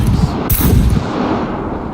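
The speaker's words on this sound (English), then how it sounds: "But M82, probably one of the fastest ways to destroy them" Heavy, booming M82 rifle shots in the game SCUM, fired at a turret, landing as a couple of loud, close blasts that roll into a dense low rumble.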